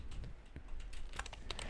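Someone types on an old PS2 computer keyboard, giving a quick run of faint, close clicking key presses in an irregular rhythm with no voices.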